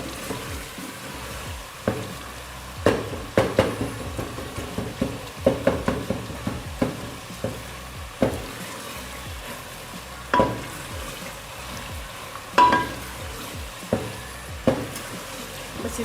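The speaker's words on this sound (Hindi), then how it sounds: "बस इसको अच्छे से भून लेंगे ताकि ग्रेवी अच्छी से तैयार हो जाए, कच्चापन ख़त्म हो जाए अदरक का, टमाटर का, प्याज का" An onion, ginger and tomato masala sizzles and fries in a pan, a continuous soft crackle broken by repeated scraping and stirring clicks, close and fairly quiet.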